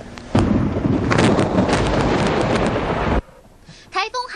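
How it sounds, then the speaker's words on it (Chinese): Thunder from lightning striking the Taipei 101 tower during an approaching typhoon sounds as a loud, close, broadband crackling roar lasting about three seconds, then cuts to quieter background where a voice speaks. "满天雷声已经轰隆作响，一股脑劈向101大楼避雷针塔"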